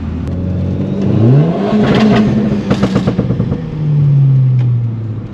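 A Renault Clio 4 RS Cup with automatic gearbox revs up loudly and close, the engine pitch climbing, dropping at a quick gear change, then rising again with a throaty, rasping exhaust note.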